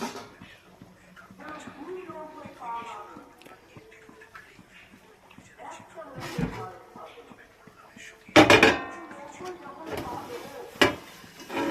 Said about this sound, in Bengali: ঢাকনাটা দিয়ে একটু চাপা দিয়ে দিই